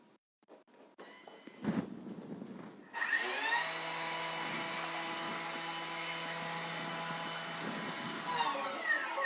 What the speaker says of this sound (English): I'm going to grind the sugar for 5 seconds on speed 10